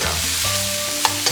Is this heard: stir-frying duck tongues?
yes